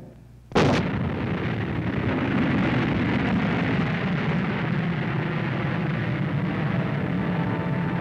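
A missile launches at the end of a countdown with a sudden sharp blast, followed by a loud, sustained rushing roar that fills the rest of the moment.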